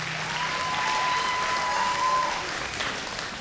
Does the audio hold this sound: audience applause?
yes